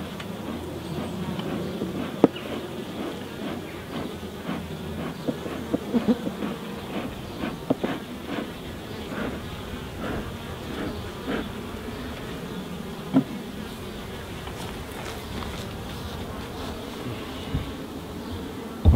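Honeybees buzzing while feeding on a pollen patty at a hive in the UK in June, a dense steady hum of many bees close by, with scattered faint clicks and bumps.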